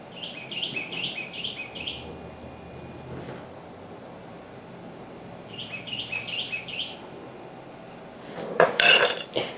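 A metal pan knocked and shifted about on a counter while pizza dough is pressed out to cover its bottom, ending in a louder clatter, with birds chirping repeatedly in the background and no talking.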